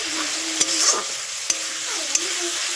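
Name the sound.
spice paste being stirred and fried in oil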